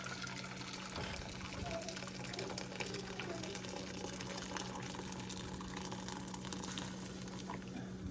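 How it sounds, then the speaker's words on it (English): Boiling water being poured over eggs in a kitchen while making Korean soy sauce marinated eggs, a steady gushing, splashing pour that runs continuously at close range. "Do not film and pour boiling water"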